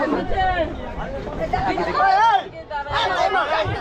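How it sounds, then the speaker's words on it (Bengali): Dense crowd chatter fills a packed general-class coach of the Ma Tara Express boarding at Naihati, many overlapping voices murmuring and calling close by, rising and falling continuously. "জেনারেল কোচে ব্যাপক ভিড়, কোনো মতে ঠেলে ঠুলে ভেতরে আসলাম।"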